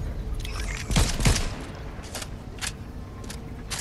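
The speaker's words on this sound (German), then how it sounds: "Ein Schuss!" Gunfire rings out in the video game Fortnite, with two close, loud shots in quick succession followed by several fainter, scattered bursts over a low background rumble.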